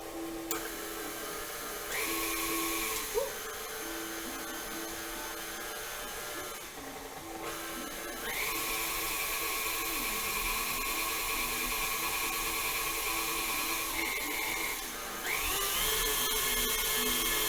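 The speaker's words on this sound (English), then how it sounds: "So this is going to whisk for about 5 more minutes." An electric mixer whisks buttercream frosting, a steady loud whirring drone that shifts pitch several times as the beaters work the bowl, with no talking.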